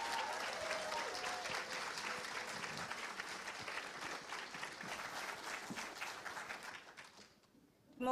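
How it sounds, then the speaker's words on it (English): An audience at an RJC Dance Windrush performance claps and applauds, a dense sustained wash of clapping that fades near the end. "I want you to really put your hands together as we celebrate RJC dance"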